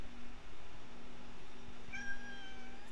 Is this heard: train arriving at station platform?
no